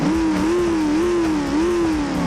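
A steady, loud engine drone from the Half-Life 2 Junker car mod in BeamNG, idling and revving in gentle repeated pitch swells, close and alone with no speech.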